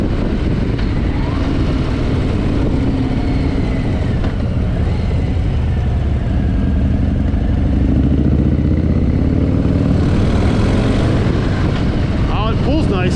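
A 2023 Harley-Davidson Low Rider ST motorcycle engine pulling under acceleration, a loud continuous rumble that rises in pitch and intensity toward the end, with heavy wind noise throughout.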